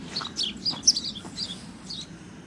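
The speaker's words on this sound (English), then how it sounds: "In the tree, some birds." Several birds chirp and tweet in short, quick bursts in a tree in a Russian village, with a low hum of background noise beneath.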